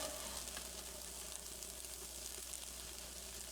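Chorizo frying in a pan with its fat rendering out, a steady soft sizzle that holds evenly throughout with no talk over it.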